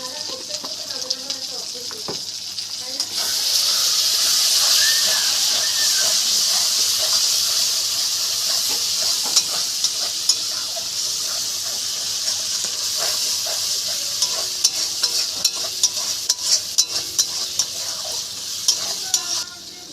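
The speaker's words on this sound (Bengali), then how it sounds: "আর এর মধ্যে 1 চামচ জিরের গুঁড়ো দিয়ে নেব, দিয়ে ভালো করে নাড়াবো" Ground cumin and spices sizzle loudly in a hot pan for an echor chingri prawn curry, a steady close hiss with repeated scraping strokes of stirring running throughout.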